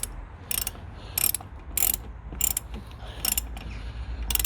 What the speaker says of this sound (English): re-securing our washer bottle with the sorry, I keep saying the washer bottle, I mean the coolant reservoir, with our little 8mm socket